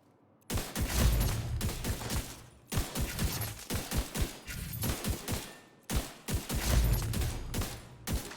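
Rapid bursts of rifle fire from a sniper rifle in The Division, a shooter video game, shot at full rate in three long volleys separated by brief pauses, loud and close with sharp repeated cracks.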